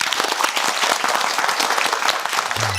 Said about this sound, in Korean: 박수로 청해 보겠습니다